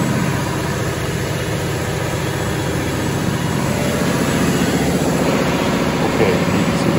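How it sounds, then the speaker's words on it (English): An electric motor drives the radiator cooling fan of a marine diesel-electric propulsion plant, giving a steady, loud, broadband whirring drone with a low rumble underneath that holds constant throughout. "you can see the motor for the cooling for the fan"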